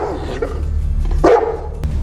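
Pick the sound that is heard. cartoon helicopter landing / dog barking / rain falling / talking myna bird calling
dog barking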